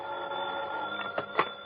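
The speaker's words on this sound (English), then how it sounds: "the phone beside my bed started jangling again" A bedside telephone rings with a jangling bell, two quick bursts sounding close and clear over a steady background hum.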